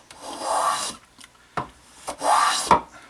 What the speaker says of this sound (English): You'll notice I'm planing these areas on top of my bench